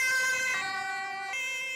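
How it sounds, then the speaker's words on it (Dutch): An ambulance siren wails from within a convoy of about thirty buses, cars and ambulances opening a new road near Leeuwarden, its strong harmonic tone holding steady and sliding slightly lower over the short stretch. "Een stoet van zo'n 30 bussen, auto's en ambulances mocht u als eerste een stuk door de hek rijden."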